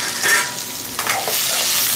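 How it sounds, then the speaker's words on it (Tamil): Chopped onions sizzle and get stirred in a hot pan for a mushroom gravy, a loud close hiss with a few scraping stirs. "வெங்காயம் போட்டு நல்லா வதக்கிடலாம்."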